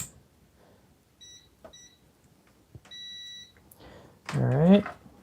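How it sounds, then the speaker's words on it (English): Multimeter in continuity mode testing a transformer output pin on a circuit board, giving short steady beeps twice or so, separated by quiet probing, before a voice speaks loudly at the end. "let's see if we have continuity from the output pin of this transformer"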